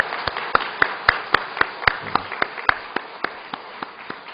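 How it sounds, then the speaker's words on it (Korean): A church congregation at a Wednesday service claps, a sparse run of distinct, fairly even hand claps that thins out toward the end, with no talk over it. "그래서 그분들을 위해서 우리 한번 박수를 한번 쳤으면 좋겠습니다"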